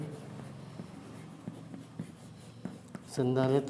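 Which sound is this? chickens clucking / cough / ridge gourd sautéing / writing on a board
writing on a board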